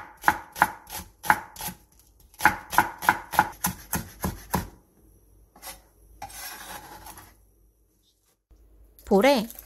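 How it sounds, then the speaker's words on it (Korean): A knife slices a carrot into thin strips and cuts green onions on the diagonal for kimchi: a quick, rhythmic run of about fifteen close chopping strokes on a board, then quieter rustling and a short vocal sound at the end. "당근 1개를 얇게 채 썰고 대파 4개는 어슷 썰기 해주세요."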